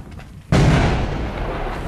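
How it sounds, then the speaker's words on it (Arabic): A locally made cannon fires once in Aleppo during a fighting attack, a sudden loud boom that cuts in after a quiet lead-in and rumbles on with a long, heavy, noisy decay. "مدفع محل الصنع"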